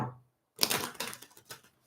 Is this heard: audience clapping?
no